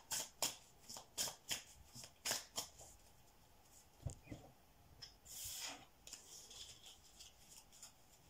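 Tarot cards being taken out and shuffled, a run of crisp rhythmic riffles followed by softer sliding and rubbing of the deck, close and quiet, with no talking.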